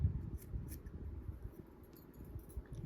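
Scissors snip through yarn while crocheting a fur durag: a few soft, brief cuts close by, over low rustling handling noise.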